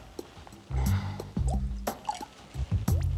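Water poured into a glass in short bursts, giving close, gurgling splashes and drips that stop and start several times.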